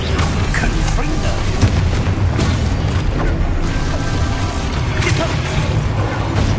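The Confringo fire spell explodes in the video game Hogwarts Legacy amid dense, loud booming and rumbling battle noise with continuous bursts and crashes, and a voice can be heard under the din.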